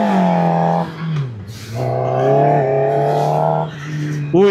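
A QJMotor SRK 450 RR four-cylinder motorcycle on a test ride revs hard and loud, its engine note climbing, dropping briefly at a gear change, then rising again before a sharp final rev.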